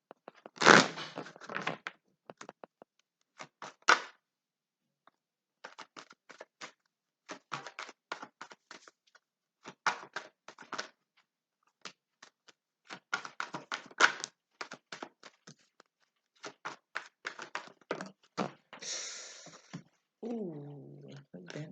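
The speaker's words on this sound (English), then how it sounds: "Cards I want to shuffle." Tarot cards being shuffled by hand in repeated short bursts of quick riffling flicks separated by pauses, close and fairly quiet, with a brief voice near the end.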